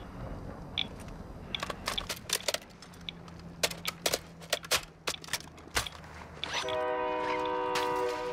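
A train in the Call of Duty DMZ game: sharp metallic clanks and knocks scattered over a low rumble, then a sustained tonal horn-like blare rising near the end, moderately loud with no talk.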